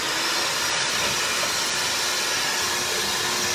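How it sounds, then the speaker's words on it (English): An electric hand mixer runs on high speed whipping egg whites, giving a steady, loud, close whirring hiss that holds unchanged throughout with no talking. "so I have the mighty hand mixer. Put it right here. High speed."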